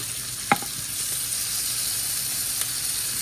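Teriyaki chicken pieces hiss in a hot skillet with a steady, close sizzle, broken by a couple of brief clicks from the pan.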